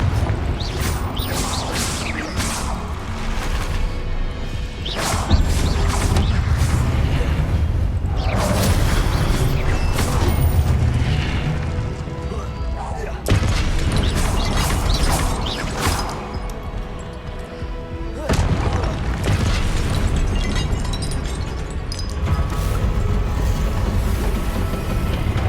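Confringo fire spells exploding during combat in the video game Hogwarts Legacy: several loud, close blasts crash through a dense, continuous wash of battle effects and rumbling.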